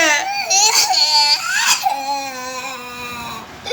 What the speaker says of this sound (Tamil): ஏய் ஜான்சி ராணி, 3 பேரும் சேர்ந்துதான் அழுறாங்க.